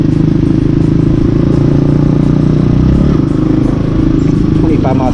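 A motorcycle engine hums loudly and steadily while riding at low speed, a close, continuous throbbing drone with slight shifts in pitch.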